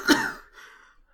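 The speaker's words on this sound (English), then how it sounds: "What a shocking cough!" A narrator voices a violent cough while reading Herman Melville's The Confidence-Man aloud, one sharp explosive hack that trails off into a raspy, wheezing breath.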